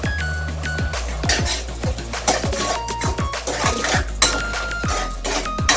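A spoon clinks repeatedly against the pan as sugar is mixed into a bread halwa mixture, sounding as close, uneven metallic taps with a soft scraping underneath.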